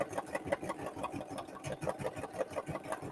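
A sewing machine stitches through paper, running steadily, its needle punching in a fast, even rhythm with a whirring mechanical hum and no voices.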